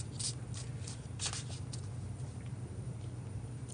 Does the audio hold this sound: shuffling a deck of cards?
yes